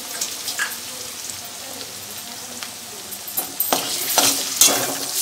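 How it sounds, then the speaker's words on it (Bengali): Garlic paste frying with onions in a pan, a continuous close sizzle that grows louder and crackles more sharply toward the end, with stirring and no talking. "এবার আমি পেঁয়াজের মধ্যে রসুন বাটাটা দিয়ে দেবো"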